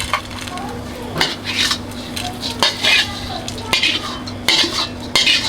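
Fried pork belly with chili and salt being scooped from a pan onto a plate, a close series of metal scrapes and clinks of utensil against cookware over a faint sizzle.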